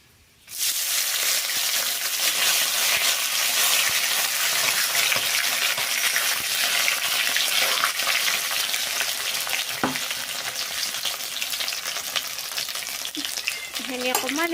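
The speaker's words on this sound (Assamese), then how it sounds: "এইখিনি মই এতিয়া খুন্দি থোৱাখিনি মই দি দিম তেলত" Loud, steady sizzling as crushed spices hit hot oil with dried red chillies and bay leaves, frying continuously with occasional stirring scrapes close by.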